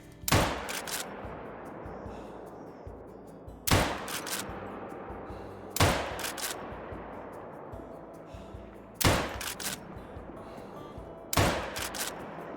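Rifle shots in the hunting game Call of the Wild, fired during a kangaroo hunt: five sharp, loud cracks spaced a few seconds apart, each trailing off into a rolling echo over steady outdoor ambience.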